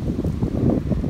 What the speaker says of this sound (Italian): c'è un vento allucinante che non so se sentite qualcosa perché c'è veramente tanto vento